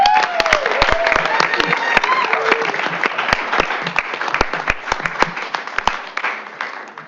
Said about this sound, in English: Let's give all of our winners one more round of applause.